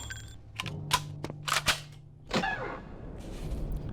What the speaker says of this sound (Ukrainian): Давайте цією пукалкою постріляємо ще.